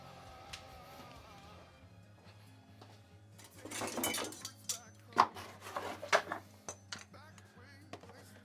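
Metal spatulas clink and clatter as they are picked up in a screen-printing workspace, several sharp, close metallic knocks and jingles in a short cluster after a quiet hum-filled start.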